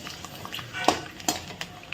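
Potato wafers fry in oil in a kadhai while being stirred, giving a soft, steady sizzle. A couple of sharp metal clinks from the stirring spoon stand out.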